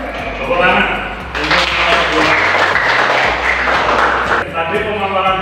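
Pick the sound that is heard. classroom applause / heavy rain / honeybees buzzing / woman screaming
classroom applause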